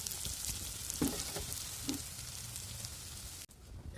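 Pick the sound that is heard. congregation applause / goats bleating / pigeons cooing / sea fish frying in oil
sea fish frying in oil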